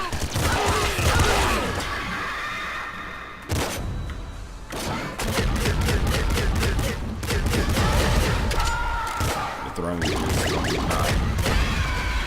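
Weapons firing in the video game Nuclear Throne, with rapid bursts of shots, thuds and crashing impacts layered over busy game noise and a voice talking at times.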